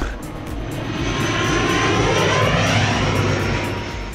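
Airplane engine roar on a flight to Cyprus, a steady, loud, broad drone that swells slightly and holds for several seconds without any talk.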